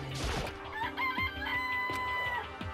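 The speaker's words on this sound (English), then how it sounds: "This place even has chickens?" Chickens cluck and a rooster crows in a game setting in Danganronpa: Trigger Happy Havoc, with bird calls rising and falling over a busy background across the clip.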